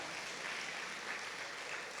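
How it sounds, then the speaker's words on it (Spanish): Church congregation applauding during a sermon, a steady, fairly faint wash of clapping hands with no voices over it. "Dele ese aplauso fuerte al Señor."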